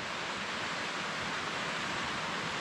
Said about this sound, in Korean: 직소 폭포가 있고, 직소 폭포 물이 이렇게 흘러내립니다.